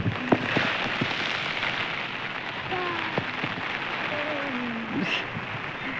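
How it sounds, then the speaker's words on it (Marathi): Steady rain patters densely into containers of leftover food, a continuous close hiss with occasional sharper drips and faint background voices. "पाऊस चालू झाला तर हे बघा उरलेलं जेवण त्याच्यामध्ये खूपच पाणी पडते"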